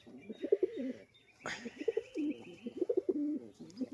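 A male desi Giribaz pigeon calls up close, repeated low gurgling coos in short rhythmic bursts, broken once by a sharp clattering noise in the middle.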